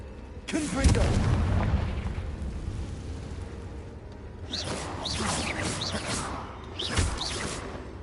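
The Confringo blasting spell bursts in the Hogwarts Legacy video game with a heavy booming explosion and rumbling aftermath, followed by further crackling blasts; a voice calls out the spell over the effects.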